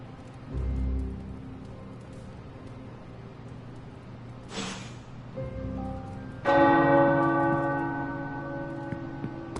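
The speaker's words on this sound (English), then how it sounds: "The tower bells are ringing." Church tower bells ring out in a video game, one early toll followed by a louder strike that hums and slowly fades, resonant and somewhat distant.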